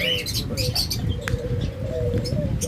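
A red-eyed white ringneck dove coos nearby in a bird-selling setting, a few rising and falling throaty calls standing out over chirps and background chatter of other birds.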